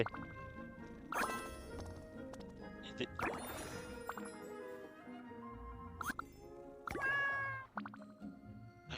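A cat meows several times in Genshin Impact, the calls rising as bright, tonal bursts over a busy game soundtrack with chimes and watery plops, the loudest meow arriving near the end.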